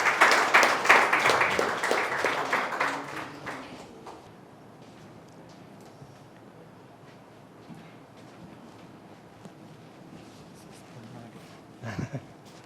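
Audience applause for a guest called on stage at an emotional intelligence awareness session, a dense burst of clapping that fades out after about four seconds, leaving a quiet room with a brief thump near the end.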